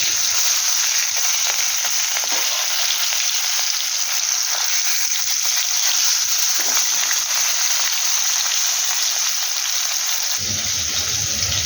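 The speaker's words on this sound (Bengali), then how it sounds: "তো আমি একটা একটা করে এখন মাছগুলোকে ভাজা করে নেব।" Fish frying in hot oil, a loud, steady, close hiss of sizzling that holds without a break, with a small thump near the end.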